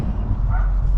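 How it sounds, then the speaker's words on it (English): An angry dog barks in a short, close burst of low, gruff woofs mixed with whiny yips, loud over faint background noise. "Sorry for my dog being angry."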